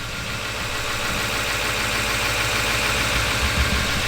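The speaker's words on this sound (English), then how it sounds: "my truck is idling unusually high right now" Idling high and heard up close, a GMC Denali truck engine gives a continuous loud mid-to-low drone with a slight rough pulse, steady from start to finish with no voices.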